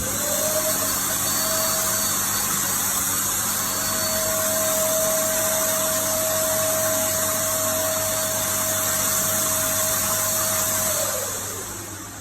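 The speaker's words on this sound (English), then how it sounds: "The spraying continues from head to toe." A Nigerian-made automated walk-through sanitizer machine sprays disinfectant with a steady, loud pump-like drone and a faint whine held for several seconds before it winds down, and no one speaks.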